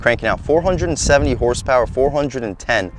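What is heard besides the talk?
No distinct noise like a dog, phone or traffic.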